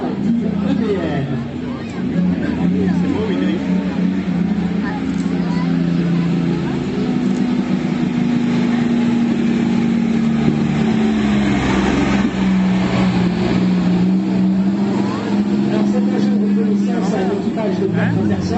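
A French Panhard EBR armoured reconnaissance vehicle drives at a tank museum demonstration in Saumur, its engine a steady low drone held throughout under crowd babble and a public-address voice.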